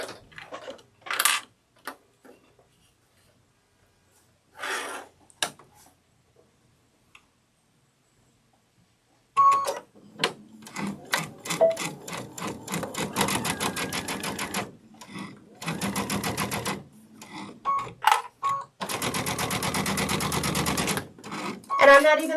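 A domestic sewing machine stitching fabric along the seam guide for a sunflower wall hanging: a few scattered clicks and taps, then a fast, steady mechanical whirring run of stitches in close bursts, briefly stopping and restarting.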